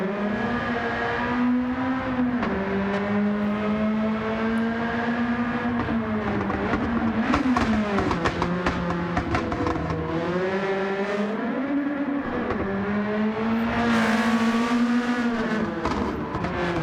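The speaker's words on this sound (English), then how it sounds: "That exhaust goes crazy." Honda race car in Gran Turismo 7 revving hard on track, its exhaust rising and falling through repeated gear changes with a continuous loud engine roar and crackling pops, heard alone without talk.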